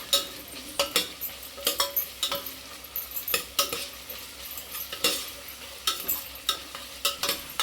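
Onion, mint, coriander and ginger garlic paste sauté in a pan, with steady sizzling broken by repeated clinks and scrapes of a spoon stirring against the metal, close and fairly loud, with no voices.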